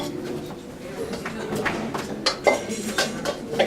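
Pans and dishes handled in a home kitchen while making chaat such as dabeli and sev puri, with scattered clinks and clatters that grow louder toward the end, heard over murmured voices.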